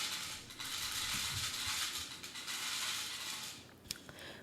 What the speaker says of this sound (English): that's my cat's automatic feeder